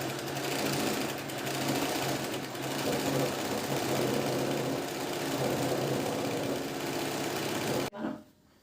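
A sewing machine stitches a princess-cut blouse in a steady, continuous mechanical whir for nearly eight seconds, close and even, then stops abruptly with a short clunk.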